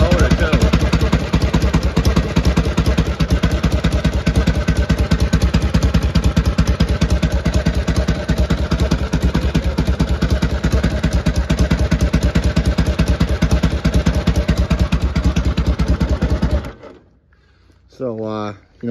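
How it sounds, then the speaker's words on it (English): A 1948 Harley-Davidson Panhead motorcycle engine idles loud and close with a steady, rapid loping thump for most of the clip, then cuts out abruptly into quiet with a few faint knocks. "Nice quiet motor too."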